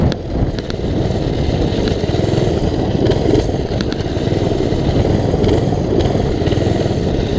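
Mini bike engine running steadily while being ridden, a continuous loud buzzing drone that holds fairly even throughout with slight surges in revs.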